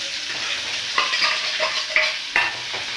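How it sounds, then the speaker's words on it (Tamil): Onions tipped into hot oil with chana dal and fried curry leaves, sizzling and crackling steadily up close, with a few sharper bursts of spatter as the pan is stirred. "அடுத்து வெங்காயத்தை கொட்டிடலாம்"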